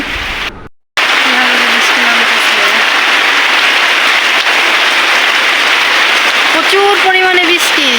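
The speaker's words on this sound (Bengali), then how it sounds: "বাহিরে প্রচণ্ড পরিমাণে বৃষ্টি নামতেছে" Heavy rain pours steadily outside a kitchen door, a dense constant hiss that starts abruptly after a short gap and runs to the end, with a faint voice briefly audible underneath.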